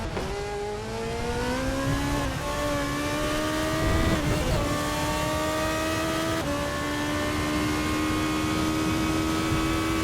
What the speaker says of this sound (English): You can just see how insanely high revving these engines are